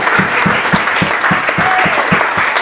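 Steady applause from a church congregation with a regular clapping rhythm, fairly loud and continuous throughout.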